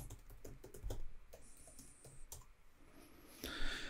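Computer keyboard keys tapped in a quick irregular burst while a password is entered, faint and close, followed by a louder rustle near the end.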